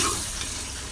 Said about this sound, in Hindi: आप इसमें ये टमाटर का पेस्ट जो मैंने बनाया था वो डाल दें और इसे भूनें